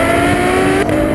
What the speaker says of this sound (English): On the road, the standout features remain the engine, which is mega.